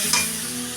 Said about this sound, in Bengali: তেলটা প্রথমে একটু ভেজে দেবো